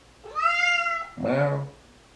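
A cat, apparently a pet at home near its food bowl, lets out two drawn-out meows in quick succession, the first high and clear, the second lower and throatier, loud and close.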